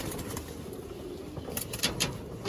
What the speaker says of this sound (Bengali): এগুলো সব মাদি কবুতর।